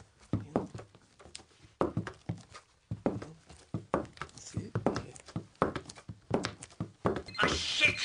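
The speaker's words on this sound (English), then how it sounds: "It's a heel, toe, and heel, toe." Foley footsteps worked heel then toe, giving soft paired thuds in an uneven walking rhythm, with voices talking at points.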